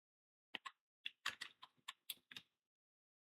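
A short burst of about a dozen distinct keystrokes on a computer keyboard, heard close and clear against silence, then a pause and one final click.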